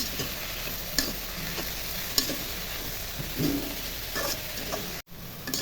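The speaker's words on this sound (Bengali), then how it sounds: "উল্টে পাল্টে দিই, নেড়ে চেড়ে দিই।" Washed coriander leaves are stirred and turned in a hot pan to steam, with soft scraping strokes, light sizzling and occasional small clicks, close and fairly quiet with no talk.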